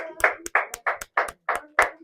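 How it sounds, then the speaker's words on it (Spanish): About seven sharp, evenly spaced claps ring out from a church congregation, close and distinct with short silences between them, in a rhythmic pattern. "Dale un aplauso al Señor."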